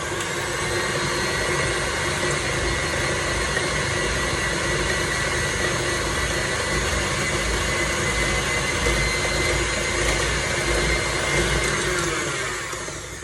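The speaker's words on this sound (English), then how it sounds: "And beat it on a medium beat, and just going a bit faster once everything is combined." An electric mixer beats banana bread batter at medium speed, a loud, continuous motor whir with a dense, even hum throughout and no talk.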